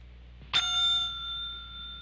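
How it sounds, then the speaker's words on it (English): A single bright bell strikes once and rings on with a long, clear, sustained tone that slowly fades, heard alone without speech in a film scene. "What is with the bell?"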